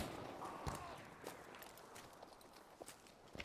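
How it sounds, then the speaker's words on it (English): Soldiers' footsteps sound in the Battlefield V video game, a faint, uneven run of soft thuds against quiet background noise. "I can hear footsteps."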